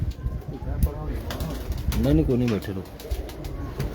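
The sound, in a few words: pigeons cooing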